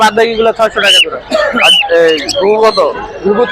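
Cockatiels and other caged birds at the Tongi bird market chirp and squawk loudly and continuously, a dense close chorus of whistles and calls with voices talking among them.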